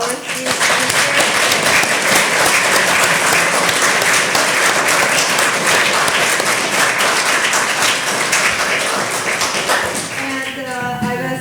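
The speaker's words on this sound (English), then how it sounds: "A round of applause for our three speakers." Sustained, loud applause from a forum audience after three speakers at a public discussion on the war in Ukraine, dense clapping that fills the room for about ten seconds before a voice begins speaking as it tapers off.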